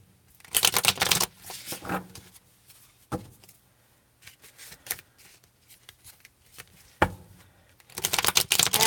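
A tarot deck is shuffled by hand in two brisk riffling bursts at the start and end, with softer card handling, taps and shuffling in between, close and fairly quiet.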